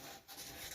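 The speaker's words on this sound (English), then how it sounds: "Start sanding softly." 120-grit sandpaper rubbed lightly across the cylinder bore of a Chonda engine seized after ten years, giving a faint, continuous dry rasp with a brief dip partway through.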